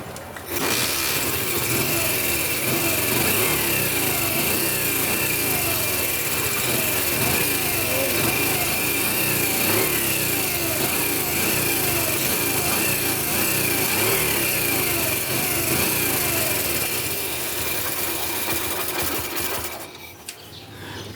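A Bajaj 100 motorcycle engine with weak pulling power runs steadily at close range, giving a continuous buzzing, whining mechanical drone for about twenty seconds with no talk, then cutting out abruptly at the end.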